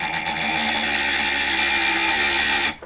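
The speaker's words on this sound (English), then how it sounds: "Just the little micromotor tool I love, I use it for all kinds of things." A small micromotor rotary tool runs steadily at high speed, a loud continuous whine that cuts off abruptly near the end.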